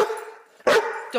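A dog gives two short, loud barks close by, with a person's voice just before them.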